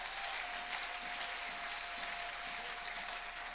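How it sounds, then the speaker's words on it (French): A church congregation claps together during a worship service, a dense and steady wash of applause from many hands, moderately distant and continuous throughout, with no clear voices above it. "Aplauda para o Senhor."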